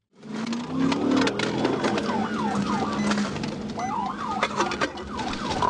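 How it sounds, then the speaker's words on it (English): A state trooper's police siren wails in rapid rising and falling yelps during a pursuit, loud and close, over engine and road noise. "The trooper was directly behind the vehicle with his emergency siren activated"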